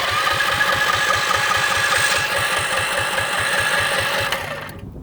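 A small engine powering a custom 1955 Chevy Bel Air minibike runs close by with a rapid, steady putter, then cuts off near the end.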